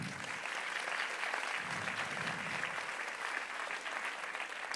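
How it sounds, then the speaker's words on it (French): Steady, fairly distant applause fills a hall at a French child-protection stakeholders' day, many hands clapping continuously at an even level without any voices rising above it. "Applaudissez-les aussi."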